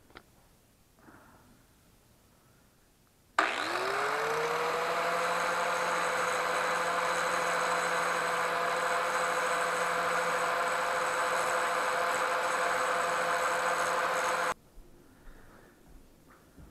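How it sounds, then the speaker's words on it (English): An electric grinder shapes a replacement ignitor part for an Englander 25 PDV pellet stove, spinning up to a steady loud whine that holds for about eleven seconds before cutting off, close by and with no talk. "Alright, so I got the grinder out."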